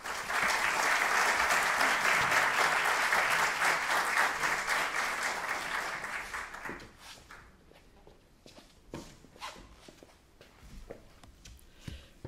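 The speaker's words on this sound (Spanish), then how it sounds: "Un aplauso." An indoor audience at a Spanish-language talk on reincarnation applauds a speaker being introduced, about seven seconds of dense, loud clapping that thins into scattered claps and shuffling as the room quiets.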